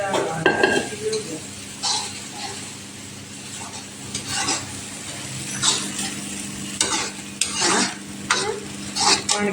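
Oil sizzles steadily in a pan as a tempering for saag cooks, while a utensil clinks and scrapes against the metal in irregular bursts, with no voices.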